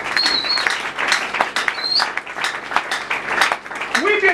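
A church congregation applauds and cheers in acclamation of the Lord, a dense, loud wash of clapping and shouts from many people that carries on throughout, with voices calling out over it.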